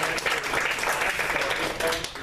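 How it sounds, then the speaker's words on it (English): An audience applauds at a talk featuring Republican Thomas Quinn, a dense, even wash of many hands clapping close by that holds steady throughout, with a faint hint of voices mixed in. "Round of applause one more time"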